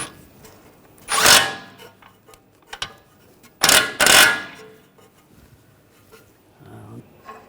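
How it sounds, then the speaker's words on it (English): Two loud bursts of ratchet clicking as a 22mm socket snugs a tie rod nut onto the steering knuckle of a 2009-2010 BMW 535 xDrive, separated by faint metallic taps, close and without talk. "Using a 22mm socket, snug this up."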